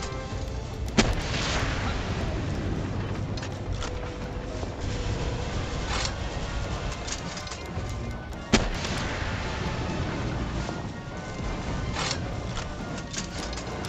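Assault rifle fire in Palworld rattles through a dense, steady roar of in-game combat, with a few sharper cracks standing out over the constant loud background.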